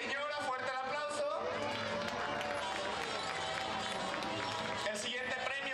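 Crowd applause at a Mother's Day celebration held by the DIF in Apaseo el Grande, steady and dense throughout, with mingled voices and music beneath the clapping.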